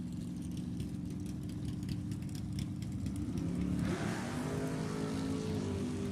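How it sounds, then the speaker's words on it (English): A 1973 Camaro and a 1969 Camaro funny car drag racing at Sacramento Raceway, their engines roaring loudly and steadily, with the sound swelling and shifting in pitch partway through as the cars accelerate down the strip. "As we have Don Morris left side, 73 Camaro, dialed in at 11:14"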